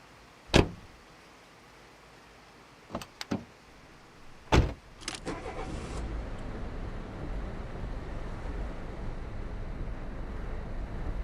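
Sharp thuds and knocks of a police car door shutting, with a pause between them. A low engine-like rumble then starts and holds steadily to the end.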